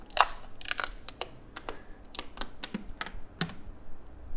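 Heavy-duty cling plastic film being peeled off a Silverstone LD03 PC case, heard as a close series of sharp crackling, tearing snaps at irregular intervals over a quiet background.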